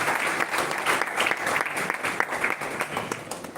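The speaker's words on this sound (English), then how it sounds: "A big round of applause for all of you" Hearty applause greets the participants of a national-level oratory contest at its inauguration ceremony, a brisk, dense round of clapping from a sizable audience throughout the clip.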